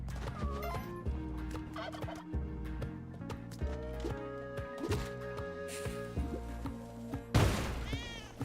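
Turkeys gobble in the Spelunky 2 video game, a string of rapid, warbling gobbles repeating across the stretch at close range, ending in a louder burst of noisy squawking.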